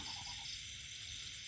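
A loud, dense chorus of frogs croaking steadily and continuously, many voices overlapping with no pauses.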